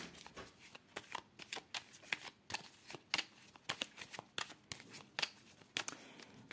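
Tarot cards being shuffled and cut, a soft, close series of riffling snaps and flutters in irregular quick bursts, quiet throughout with no talking.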